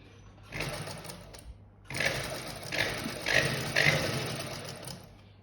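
Sewing machine running in several bursts while stitching the side seam of a garment, the fabric turned between runs; close, steady mechanical whirring with brief pauses and no talk.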